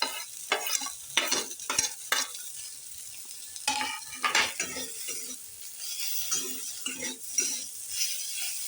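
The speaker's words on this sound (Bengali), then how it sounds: "পাতার সাথে বেগুনগুলোকে আমি মিশিয়ে নিচ্ছি" Spoon or spatula scraping and tossing fried eggplant and neem leaves in a pan, irregular strokes over a soft sizzle.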